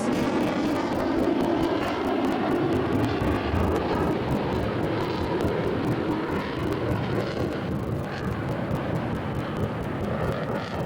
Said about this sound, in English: The Rafale, or English Squall, here it is.